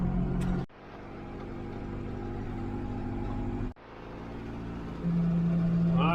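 John Deere 5101 tractor engine running steadily in low gear while cutting a firelane, a continuous close rumble with two brief dropouts and a slight rise in pitch near the end.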